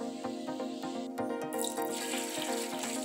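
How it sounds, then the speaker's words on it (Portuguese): Warm water runs into a bucket in a steady, splashy trickle with repeated dripping plinks and a brief louder gush midway, fairly close and on its own. "Em um balde, coloquei 2 litros de água morna."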